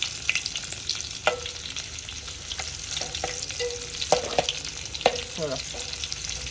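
Garlic fries in a pan with a constant crackling sizzle, broken by sharp scrapes and clinks of a spoon mixing it, close and moderately loud with no speech.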